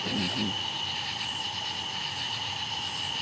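Insects and frogs drone at night beside a creek in the woods, a steady even chorus of high trills and buzzing that fills the background without a break, moderately loud and with no speech.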